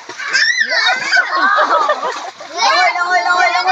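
A child swimming and splashing, with irregular water splashes mixed with excited children's voices and squeals close by.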